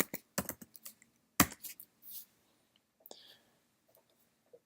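Quick bursts of keystrokes on a computer keyboard while entering a command: several clustered clicks, a pause, then a few sparse, faint taps, close up and with no speech.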